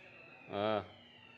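A short, strong horn-like siren blast from a fire truck lasts about a third of a second and cuts through a quiet room tone with faint background murmur.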